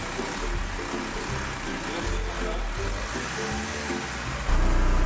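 Diesel engine idling steadily during an injection system cleaning, a low continuous rumble with a slight rise in level near the end, heard alone without talk.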